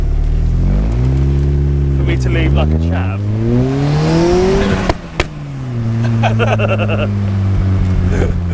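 An RX-5 Turbo, around 680 bhp per ton, revs hard and accelerates away from a McDonald's car park, its engine note climbing steadily, then a sharp pop near the end before it pulls on again; a voice talks over the engine.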